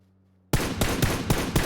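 Rapid automatic gunfire from a PUBG match bursts in after a short silence, loud and close, with several sharp shots in quick succession.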